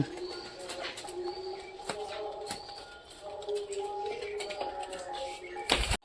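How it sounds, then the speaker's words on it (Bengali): Homing pigeons cooing while landing and feeding on puffed rice and mustard seeds, with repeated soft coos, scattered wing flaps and pecking taps close by, and a sharp rustle at the end. "এদিকে মোটামুটি সব কবুতর নামছে খাচ্ছে যাচ্ছে"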